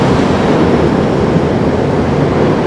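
Loud, steady rumbling roar of a New York City subway train crossing the Manhattan Bridge, a dense continuous wash of noise filling the whole stretch without pauses or voices.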